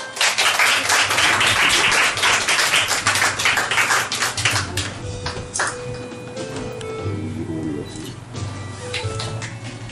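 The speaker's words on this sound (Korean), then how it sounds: "박수를 치세요." A church congregation claps together at a pastor ordination thanksgiving service, dense and loud at first, then thinning into scattered claps over a steady room murmur.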